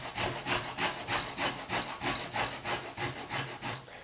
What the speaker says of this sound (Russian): луковица я очистила, чистенькая, сухая, и я начинаю тереть